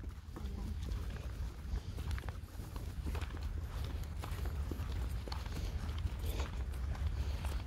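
Horses walking home from a ride, hooves clip-clopping in a steady uneven rhythm close by, with a low rumble throughout and some faint talk underneath.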